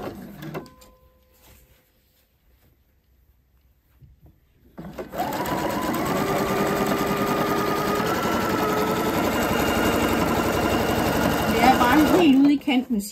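After a few seconds of near silence, a sewing machine starts up and runs a seam around elastic at the waist of a skirt, a loud, steady mechanical whirring that holds for about seven seconds before stopping.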